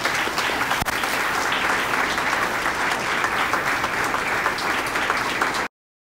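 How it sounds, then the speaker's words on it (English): An audience applauds at a police chief's awards ceremony, steady dense clapping for nearly six seconds before cutting off abruptly. "So let's give Arnie a round of applause too."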